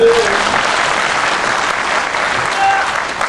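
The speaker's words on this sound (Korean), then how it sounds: "박수 한번 쳐주세요" A crowd applauds at a political campaign rally speech in Jeonbuk, steady dense clapping that stays loud and even throughout with a faint crowd murmur beneath.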